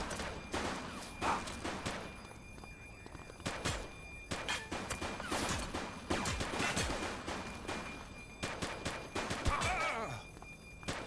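Gunfire from a shooting suspect in a police video game comes in sharp, loud bursts of rapid shots, separated by short pauses.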